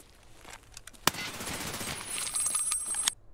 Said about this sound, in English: I have to stop shooting so much